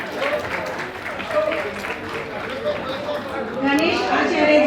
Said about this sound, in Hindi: द बेस्ट कोरियोग्राफर बॉलीवुड के गणेश आचार्य जी के लिए जोरदार तालियां।